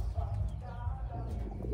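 Wantai pigeons cooing close by, soft low murmuring coos repeating over a brief stretch of quiet background.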